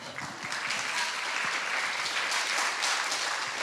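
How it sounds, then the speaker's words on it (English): Campus breakfast audience breaking into dense, sustained applause that fills the whole stretch, with a few voices faintly mixed in. "You can clap for him."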